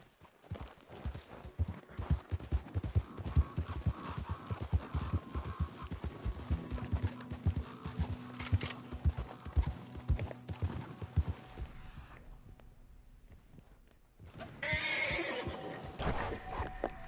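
A horse in the Red Dead Redemption 2 game gallops in quick rhythmic hoofbeats, then neighs, with a short lull before a loud whinny near the end; no talk.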